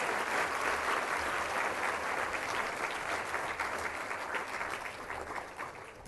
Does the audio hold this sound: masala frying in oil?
no